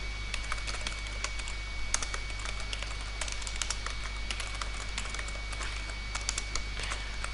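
Keys clatter on a computer keyboard as C# code is typed. The keystrokes are quick and irregular, close up and moderately loud, over a low steady electrical hum, with no talking.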